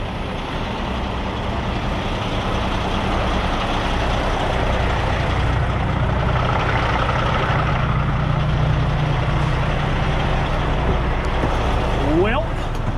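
A semi truck's diesel engine rumbles steadily and loudly as it pulls forward after unloading, with a brief rising squeal near the end and talk mixed in under the drone.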